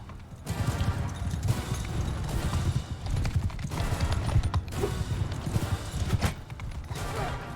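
Rumbling thunder of many hooves galloping at once in a battle in the video game Mount and Blade II: Bannerlord, loud and dense, with scattered clatter and mechanical creaks mixed into the din.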